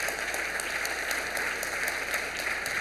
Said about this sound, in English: Could we give a round of applause for Steve Samulian?